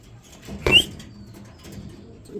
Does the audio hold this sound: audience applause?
no